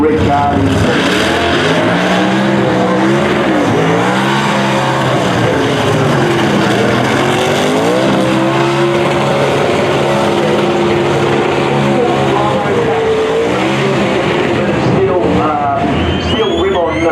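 A burnout competition car howls at high revs for a sustained stretch, engine pitch rising and falling, tires skidding and a rim grinding on asphalt, loud and continuous with an announcer talking over it.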